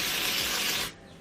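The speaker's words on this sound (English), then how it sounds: "So I'm going to use the dry shampoo pretty much right here in my roots." Dry shampoo aerosol sprayed onto hair roots, a steady close hiss lasting about a second before cutting off, leaving a faint room tone.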